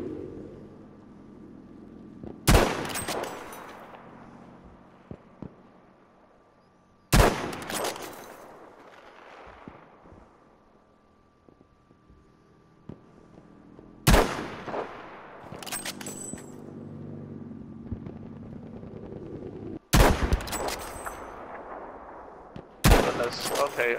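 Battlefield V open beta gunfight: five sharp, loud gunshots ring out several seconds apart, each trailing off into a rumbling echo, over a low battlefield din with faint, scattered distant shots in between.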